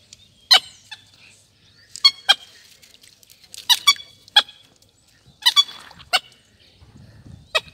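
Small ducks call at a lagoon while guarding their ducklings, giving sharp, squeaky, wheezy cries in spaced bursts of two or three, fairly near over a quiet background.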